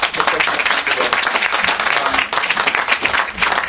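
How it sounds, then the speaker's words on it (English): Audience applause at a community gathering, a dense steady wash of many hands clapping throughout, fairly loud with some crowd noise mixed in. "Can I ask you to put your hands together for a round of applause?"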